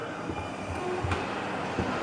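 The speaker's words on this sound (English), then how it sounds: "The train's moving now." A large toy train set at the Brighton Toy and Model Museum runs steadily, its soft mechanical rumble and faint rail clatter continuous beneath a quiet background hum.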